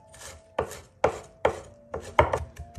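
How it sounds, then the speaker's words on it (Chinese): A knife on a cutting board minces a small piece of fresh ginger, giving about seven crisp, close chops in a brisk, slightly irregular rhythm with soft pauses between. "最后改刀把生姜切成姜末。"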